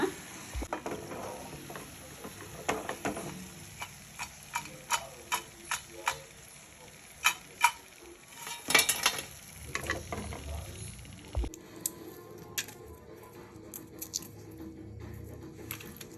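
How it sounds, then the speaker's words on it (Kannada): Chapati dough snack frying in hot oil until crisp and red: close, irregular crackles and sharp pops over a low sizzle, settling into a steadier, softer sizzle near the end. "ಕೆಂಪುಗೆ ಆಗೋವರೆಗೂ ನಾವು ಇದನ್ನು ಎಣ್ಣೆಯಲ್ಲಿ ಕರ್ಕೋಬೇಕಾಗುತ್ತೆ"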